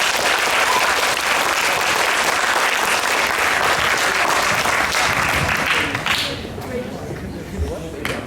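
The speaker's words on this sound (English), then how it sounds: "Give them a big round of applause." Loud, sustained audience applause at a youth music challenge, dense clapping for about six seconds that then thins and fades out toward the end.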